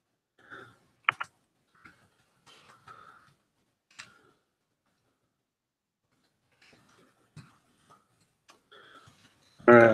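Sparse, irregular keystrokes tap on a computer keyboard, quiet and close, in short scattered bursts with pauses between them, ending with a louder burst.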